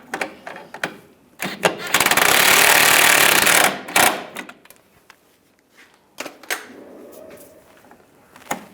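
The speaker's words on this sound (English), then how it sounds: "Take the nut, get that started, and tighten that down." A nut being tightened on a 2007-2013 Chevrolet Silverado 1500 with a power tool, a loud two-second burst of rattling impact buzz, surrounded by scattered close metallic clicks and taps.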